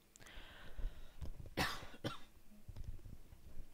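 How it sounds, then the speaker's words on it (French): A man coughs twice in quick succession, loud and close, with a few quieter throat noises and breaths around the bursts and no talking. "Je pense que je vais tousser."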